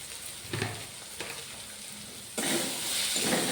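Ground coriander, fennel and kasuri methi spices sautéing in a pan with a splash of water, a soft steady sizzle with stirring scrapes, then a louder burst of frying hiss in the final second.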